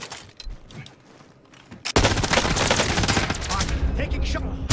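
Sustained rapid gunfire in a first-person battle royale game (Rebirth), starting abruptly after a quiet stretch with faint background chatter and continuing loud and dense to the end.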